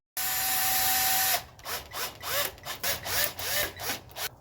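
A transmission filter being bolted onto a car during a service: a power tool whirs steadily for over a second, then a run of short ratcheting bursts and clicks, close up, with no talking.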